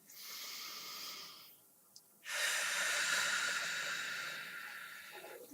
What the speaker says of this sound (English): I heard my own breathing